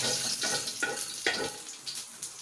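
Oil sizzles steadily in a pan as ingredients are sautéed, a constant close frying hiss with a few sharper stir bursts and scrapes, no talking.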